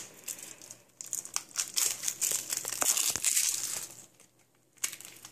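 Plastic packaging on a Shopkins toy is torn open by hand, close and fairly quiet, with bursts of crinkling and ripping that build in the middle and ease off toward the end.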